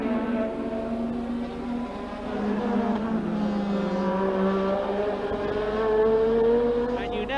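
Formula 1 cars at the 1987 Italian Grand Prix at Monza scream past in a loud, continuous high-revving engine roar, pitch climbing and falling as a leader laps a slower car, with faint commentary underneath.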